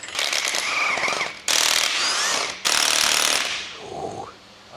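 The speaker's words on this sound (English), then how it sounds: "I'm gonna get all these done with the 1/2-inch gun" Half-inch impact gun hammering on bolts of a Cat D10T dozer final drive, in three long loud bursts of rapid rattling with brief pauses between, ending in a quieter whine as the tool winds down.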